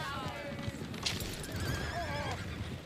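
Horses whinny and neigh in the video game Red Dead Redemption 2, with shrill rising and falling calls close by, soft hoof clip-clop, and a noisy outdoor bed underneath.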